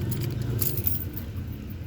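A bunch of keys jangles close by in a short metallic shake, over a low, steady rumble.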